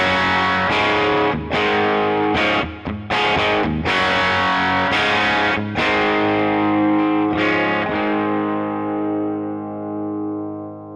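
An electric guitar played through its Bangers and Mash bridge pickup, a double-Tele-style design, heavily distorted; loud sustained chords struck in bursts with brief gaps, the last chord ringing out and slowly fading.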